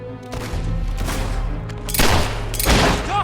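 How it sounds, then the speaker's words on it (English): Fire spell blasts in the video game Fable 3, a loud crackling burst around two seconds followed by another roaring burst soon after, over a steady rumbling game background. "Stop him from shooting that thing! That was some kind of fire spell."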